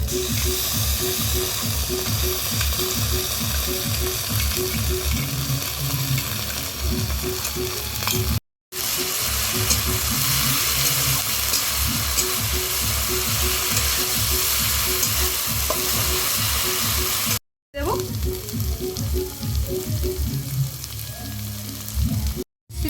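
A paste of ground cumin, ginger, garlic and chili sizzles loudly with prawns in a hot pan for a village-style banana flower and prawn dish, a steady close frying hiss that breaks off briefly twice.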